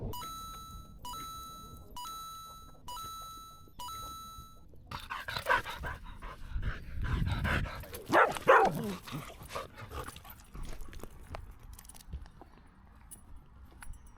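A dog pants and whimpers close by with a few excited barks and jangling, after a short run of repeated electronic beeps at the start.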